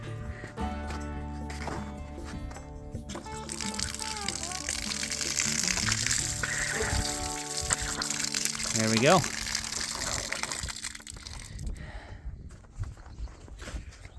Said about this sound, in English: Running water for the spring of 2024.